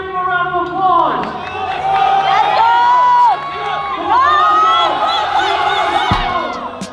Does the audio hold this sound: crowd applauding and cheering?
yes